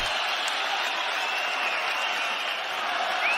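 Steady crowd cheering and roaring fills a UFC arena during a fight, a continuous wash of noise from a large audience.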